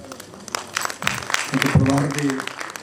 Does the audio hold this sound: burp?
no